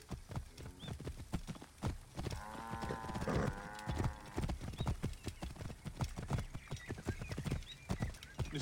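Rapid hoofbeats of a galloping horse in a video game (Assassin's Creed Origins) pound in a rolling rhythm throughout, with a horse's whinny rising briefly in the middle.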